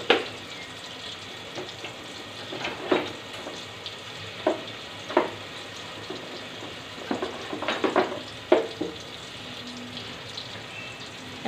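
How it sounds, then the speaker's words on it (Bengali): Spices with chili powder fry and get stirred in a pan while making mung dal muri ghonto; a soft, steady sizzle is punctuated by sharp, irregular scraping knocks of the spatula. "এখন আমি মশলাটাকে ভালো করে কষিয়ে নিব"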